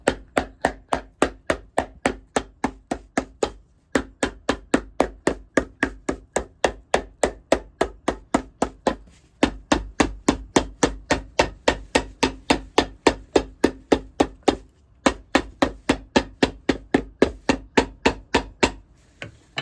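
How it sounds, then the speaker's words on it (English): A hammer strikes steadily during boot making in a collaboration with Allen Edmonds, dozens of crisp, evenly spaced blows in long runs broken by a few short pauses, loud and close with no talking. "Hammer time."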